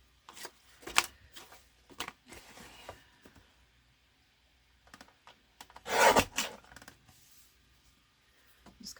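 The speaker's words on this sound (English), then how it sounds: "Just cut little slivers off just to straighten it up some." Paper folio trimmed in a few quick cutting strokes to straighten its edges, brief close scrapes separated by quiet gaps, with one longer, louder cut about two-thirds of the way through and no speech.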